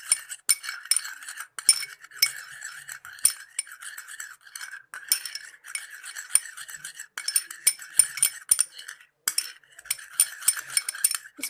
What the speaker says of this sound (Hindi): सारी चीज़ें अच्छी तरह से मिक्स कर लेना है।